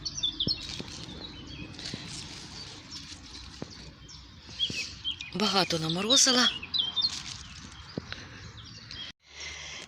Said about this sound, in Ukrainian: Як зранку гарно співають пташечки